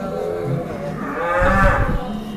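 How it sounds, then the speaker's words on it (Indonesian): Peranakan Ongole (PO) cattle, a large bull being readied for a contest, gives a loud, close, drawn-out moo that swells in the middle and fades, with farmyard background and no talking. "Ternyata ada sapi PO tunggang di tempatnya Mas Akbar."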